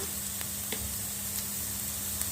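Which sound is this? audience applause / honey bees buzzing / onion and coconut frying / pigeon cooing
onion and coconut frying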